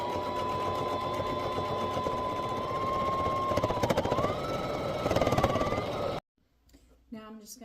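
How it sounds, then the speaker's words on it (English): A sewing machine stitches fabric with a steady, close mechanical whir and rapid needle chatter for about six seconds, then stops abruptly, followed by a brief spoken voice. "I'm just going to leave my needle up, lift my presser foot, turn this around, and start sewing"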